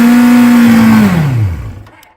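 A motorcycle engine, a Honda VFR750 or Suzuki GSX750F, runs loud and close at high revs after carburettor repair, then winds down as the revs fall and fade out.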